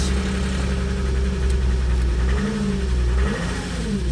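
A VW Touareg 3.0 V6 engine starts and runs steadily with a low rumble, rising and falling in pitch as it is revved, loud and close throughout.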